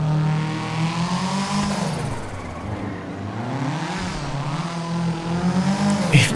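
A Nissan Silvia S15 engine in GTA 5 revs hard in a parking garage, its pitch climbing and dropping through several loud swells that ring out in the enclosed, echoing space.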